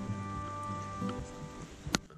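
Steady rain patters on a surface outdoors beside a 2000 Ford F150 Harley Davidson truck, a soft continuous hiss with a few louder drips and knocks, close by and moderately quiet.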